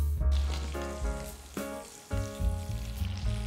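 Prawns frying in a pan give a gentle sizzle with crackles. Tonal hums and clunks run through it, and no one speaks.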